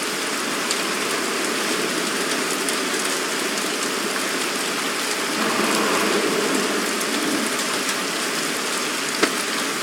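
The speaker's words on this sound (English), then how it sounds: "Goddamn rain. Soaking wet." Steady rain pours in the video game Heavy Rain, a dense hiss of drops on surfaces that stays even throughout, with no voices.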